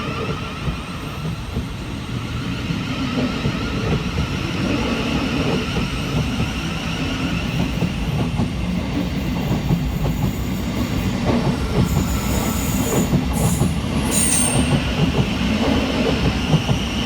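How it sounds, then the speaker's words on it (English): A Class 700 Thameslink electric multiple unit, unit 700 107 on a Peterborough to Horsham service, pulls out of a station with a steady, loud rumble of running gear and wheel noise that builds slightly and holds for the whole stretch. "Next to depart for the station is 700 107, working the 1055 Gavir Thameslink service from Peterborough through to Horsham."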